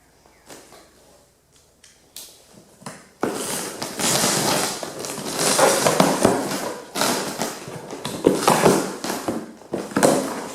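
A small cardboard box holding an irrigation supply hose is opened up close, beginning with a few light taps and handling knocks, then loud, continuous tearing and rustling of packaging that lasts to the end.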